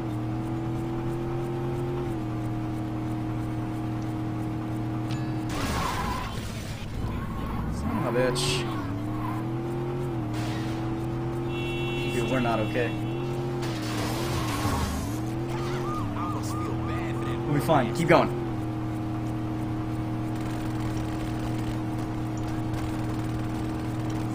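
A car in Saints Row 2 drives with a steady engine drone while tyres squeal in several short bursts, and players talk over the game sound throughout.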